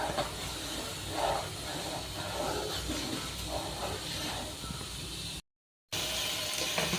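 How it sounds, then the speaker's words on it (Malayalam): Red wine sauce for beefsteak reducing in a pan over a low flame, giving a steady close hiss and sizzle that runs nearly unbroken, with one brief gap near the end. "ഫ്ലെയിം കുറച്ച് വെച്ച് വേണം ചെയ്യാൻ ഇനി നല്ലതുപോലെ ഒന്ന് ഇളക്കി കൊടുക്കാം"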